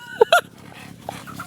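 Native country chickens at a farm, two short loud squawks near the start followed by quieter clucks and calls against low background noise.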